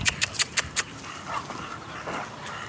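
A small puppy pants up close in several quick rhythmic bursts, then breathes and shuffles more softly.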